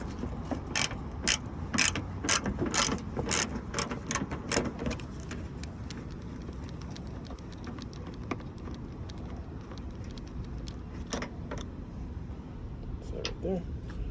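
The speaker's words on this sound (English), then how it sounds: "I'm going to remove that 10mm bolts." Ratchet wrench working 10mm bolts off the headlight panel of a 2007-2013 Toyota Tundra, giving repeated sharp clicking bursts in close, uneven runs over a low background hum.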